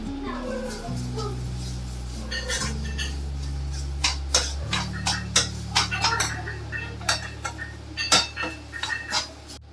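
A spoon works through ground moong dal and red chilli in a dish, sharp clinks and scrapes coming in an uneven run, close by, over a low hum, with talking in the room.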